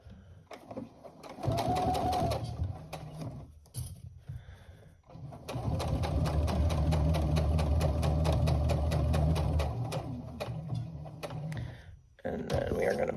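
A sewing machine top stitching across the top of a tote bag, running in a steady fast whirring buzz for several seconds after short starts and pauses, with handling noise around it.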